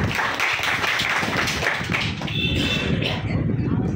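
A group claps steadily for a participant in a live general-knowledge quiz session, a dense continuous patter of hands close to the microphone that stays loud and fairly even throughout.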